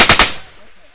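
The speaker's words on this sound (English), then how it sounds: "I got rounds impacting over here!" Automatic machine gun fire during a Taliban ambush in Afghanistan, three rapid loud bursts close by in quick succession, then a fading echoing tail.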